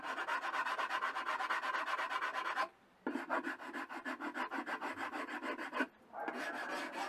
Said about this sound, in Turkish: Şu anda üstünün zımparasını yapıyoruz.